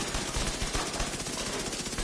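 Rapid automatic SMG gunfire from The Division 2, a dense continuous burst of shots in quick succession lasting about two seconds, loud and steady with no pauses or talk.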